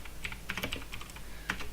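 Quick, light keystrokes tap on a computer keyboard in an irregular burst of clicks, close and quiet with no talking.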